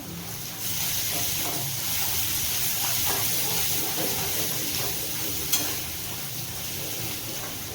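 Grated garlic fries in oil with already-browned onions for a prawn and taro-stolon curry, giving a loud, steady, dense sizzle that runs throughout, with one brief clink partway through.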